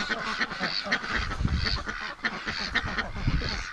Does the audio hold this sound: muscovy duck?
yes